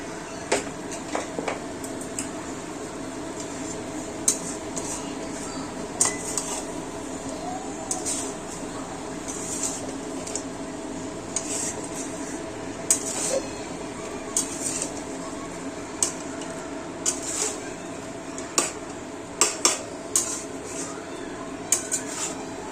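Salt being stirred into chicken gravy in a pot, with light metallic clinks and scrapes of a spoon recurring over a steady low background hum.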